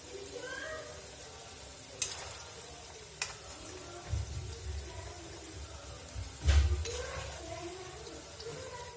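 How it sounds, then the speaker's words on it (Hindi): Broccoli fries in oil with a soft, steady sizzle, broken by a few sharp clatters and low thumps from the pan. "ब्रोकली को हार्डली 5 से 7 मिनट लगती हैं, इससे ज़्यादा टाइम नहीं लगता फ्राई होने में"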